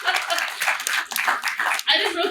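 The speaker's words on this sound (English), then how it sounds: "You give them a round of applause." An audience at a live event in Gallup claps in a quick, dense burst of applause, close and fairly loud, while a voice keeps talking over it.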